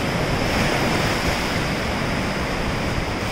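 Ocean surf rolls in at Uluwatu Beach in Bali, a white sandy beach with clear waves, as a loud continuous wash of breaking water with some wind rumble and no voices.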